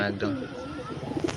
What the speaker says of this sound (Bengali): এই যে দেখো পায়রা দেখো